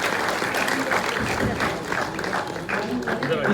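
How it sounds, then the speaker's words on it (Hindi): Audience applause at a job fair ceremony in Varanasi where appointment letters are handed out: a dense, steady clapping of a crowd, loud and continuous, with voices mixed in. "जोरदार तालियां बजाते रहें।"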